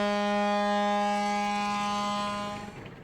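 The riverboat Bou El Mogdad sounds its siren for departure: one loud, sustained, steady horn blast lasting nearly three seconds that cuts off and leaves a faint echo.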